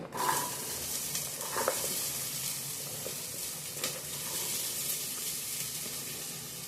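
Onion and tomato sautéing in hot oil for a mutton gravy, giving a steady close sizzle with occasional stirring scrapes and no talk.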